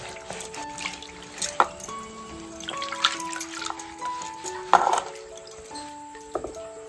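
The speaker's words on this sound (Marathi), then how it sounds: "तर आता ह्यांना सर्व वॉश करून घ्यायचंय ना, धुवून घेऊया आपण।" Cucumber leaves being washed by hand in a container of water for making pan mode, with intermittent splashes and drips over a faint background of tonal sounds.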